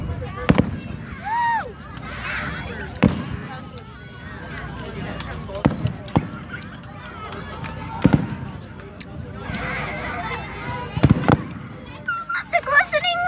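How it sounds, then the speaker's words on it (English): Fireworks burst repeatedly over about thirteen seconds, sharp loud bangs at irregular intervals with crackling and whistling between them, while people talk and exclaim excitedly throughout. "I like all fireworks."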